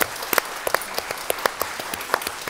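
An audience at a televised dance casting applauds, with a steady wash of clapping and distinct individual claps standing out near the microphone in a brief burst.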